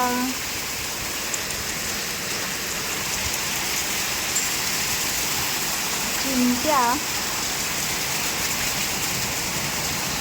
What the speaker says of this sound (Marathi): खूपच जोराचा पाऊस आला.